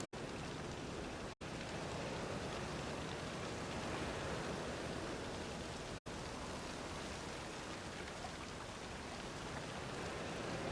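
Steady rain in The Witcher 3 fills the scene as a dense, even hiss of falling drops, broken by two brief cuts to silence, with no voices.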